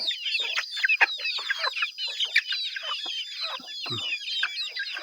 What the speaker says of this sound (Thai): นี่ไก่พี่น้อง